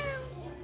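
A small child imitates a cat with one short, high, nasal meow, spoken clearly and close by in a classroom-like setting.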